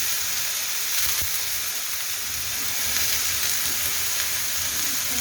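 Radish bhaji sizzles on an iron griddle, giving a steady, bright hiss of frying with faint stirring scrapes, continuous and close.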